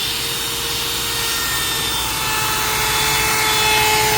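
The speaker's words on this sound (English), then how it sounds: "I better get to routering." A router cutting slowly through maple wood, a loud continuous high whine with steady grinding that holds throughout and rises slightly toward the end.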